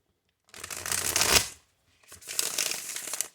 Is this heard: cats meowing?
no